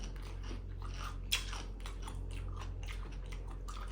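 Close, crisp crunching bites and chewing of an edible fresh leaf, repeated in a quick irregular rhythm, with a steady low hum in the background.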